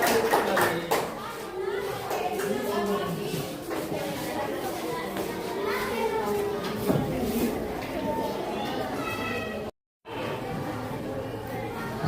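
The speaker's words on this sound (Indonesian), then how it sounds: "kasih tepuk tangan untuk kelompok kembali" A classroom of students applauds a presentation group, with a steady patter of many hands clapping mixed with children's chatter throughout and a brief dropout near the end.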